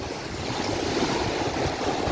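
Sea waves wash steadily onto Corralejo beach in Fuerteventura, Canary Islands, at high tide, a dense continuous surf roar mixed with wind noise on the microphone, with no talking.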